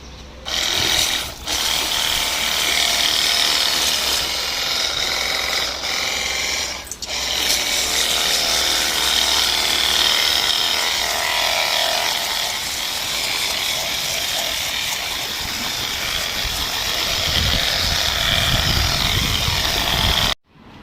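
Cordless rechargeable car pressure washer spraying foam, a close, steady motorized whir with a hissing spray, broken by a couple of brief pauses and a change in texture near the end.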